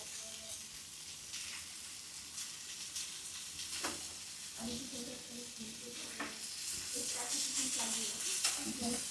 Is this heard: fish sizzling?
yes